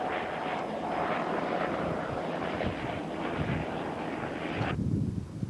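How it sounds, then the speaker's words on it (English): Broad, steady roar of a helicopter passing in the desert with wind noise, holding level then dropping off sharply near the end. "Helicopter going by."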